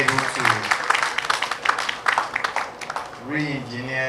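Audience applause for STC Managing Director Nana Akomea and his team: a dense patter of clapping at moderate volume, with a voice speaking through it near the start and again as it fades at the end.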